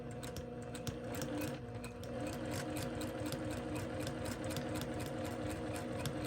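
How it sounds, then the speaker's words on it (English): A sewing machine stitches quilt pieces together along a quarter-inch seam, running close and continuously with a rapid, even mechanical chatter and a steady motor hum throughout. "I'm going to go at 1/4 of an inch, and I'm going to sew all the way down"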